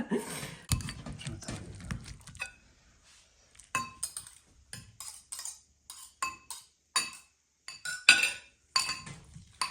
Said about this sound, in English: I'm gonna go ahead and mash it with a masher